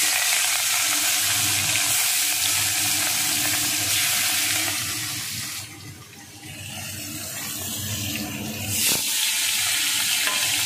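Fish going into a very hot, scorched wok in a home kitchen, frying with a steady loud sizzle and broadband crackle that dips briefly midway then swells again, with stirring scrapes and no talking.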